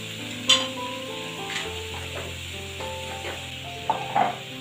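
Garlic and onion fry in a hot pan for a chicken curry dish, with a steady sizzle, occasional stirring scrapes and a few sharper clinks close by; no one talks.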